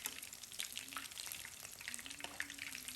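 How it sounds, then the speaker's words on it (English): Beer-battered shrimp frying in hot oil, a steady close sizzle with constant crackle and small pops throughout, no voices present. "So once you put them in the hot oil, you're just going to make sure that both sides are evenly browned"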